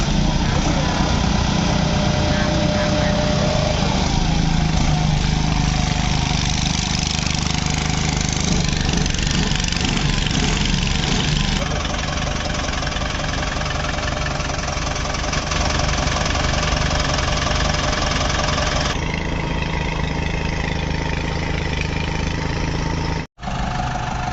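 A just-repaired walking tractor engine runs steadily with a loud, close, knocking drone throughout, briefly cutting out once near the end.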